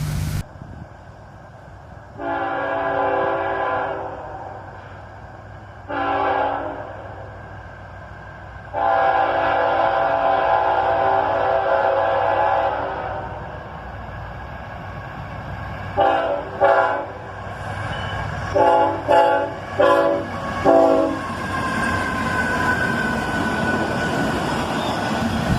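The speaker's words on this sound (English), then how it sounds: "a great little horn show from the engineer, as a pair of c40-8s lead this auto-rack train southbound" A pair of Canadian National C40-8 standard-cab locomotives leading a southbound auto-rack train sound their horn in a series of loud chords, several long blasts followed by quick short toots, over a low rolling rumble.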